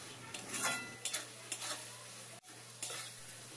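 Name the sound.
frying spices in fish oil, stirring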